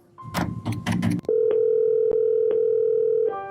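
Telephone line while placing an anonymous call to a helpline: a few short clicks and key taps, then a steady continuous dial tone that holds loud and clear for about two seconds.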